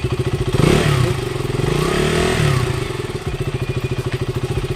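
A restored KTM Duke 200 motorcycle engine fires up on the electric starter and settles into a loud, close, steady single-cylinder idle with a rapid pulsing thump and some mechanical clatter.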